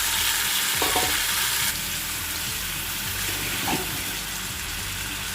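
Chopped onion, tomato and green chilli hit hot mustard oil in a pan with a loud, steady sizzle, stirring scrapes breaking through, and the frying eases to a lower crackle partway through; no one speaks.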